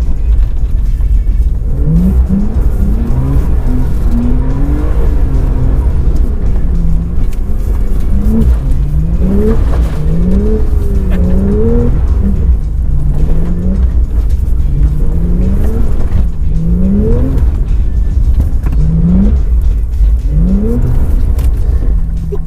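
A Porsche 991 Carrera 4 GTS drifting on an icy, snowy track, its engine droning loudly and continuously with repeated rising and falling revs as the car slides.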